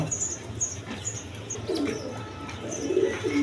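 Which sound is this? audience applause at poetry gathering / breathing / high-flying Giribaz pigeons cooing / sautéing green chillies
high-flying Giribaz pigeons cooing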